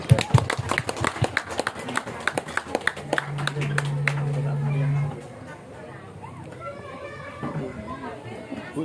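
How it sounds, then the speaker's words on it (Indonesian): An audience claps for children after their gymnastics performance at a kindergarten arts show. Quick, scattered claps come in the first few seconds, then fade into crowd chatter, children's voices and talking. "Mari kita beri tepuk tangan yang meriah untuk anak-anak kita."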